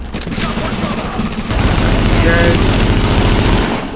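Heavy automatic gunfire from blind firing in Tom Clancy's The Division, loud continuous bursts layered with other weapons and impacts, dense and sustained with chatter from players underneath.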